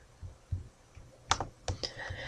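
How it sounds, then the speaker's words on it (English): A name is typed on a computer keyboard in Microsoft Publisher, heard as a few soft, uneven key taps and clicks. The taps are spaced irregularly and stay fairly quiet and close, with no talk. "you have to type in your name"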